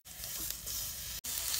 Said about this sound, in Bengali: কড়াইতে সেকে নেব